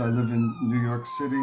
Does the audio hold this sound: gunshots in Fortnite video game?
no